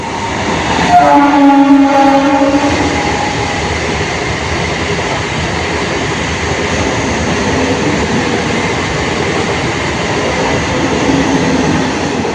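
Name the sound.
train passing through railway junction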